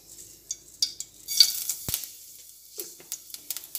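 Black cumin (nigella) seeds dropped into hot mustard oil in a wok for fried okra give a brief crackling sizzle, with scattered spatter and a few light clinks of a utensil, close and fairly quiet.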